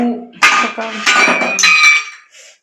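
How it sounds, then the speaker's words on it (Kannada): Metal pots and vessels being stacked in a home kitchen, several sharp clanks and ringing clinks in quick succession, close and loud, with a voice talking over them. "ನೋಡಿ ಪಾತ್ರೆ ಎಲ್ಲ ಜೋಡಿಸ್ತಾನೆ"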